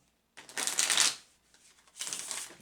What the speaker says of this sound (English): I'm shuffling 5 times